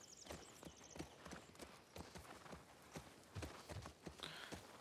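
Horse hooves clip-clop at a steady riding pace in The Last of Us Part II, rhythmic close thuds with faint ambient game sound behind.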